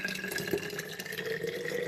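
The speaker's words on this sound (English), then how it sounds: "now I'm just going to pour my tea inside the jar." Tea poured into a jar over strawberry and kiwi pieces, a steady close trickle of liquid filling the container with a faint splash partway through.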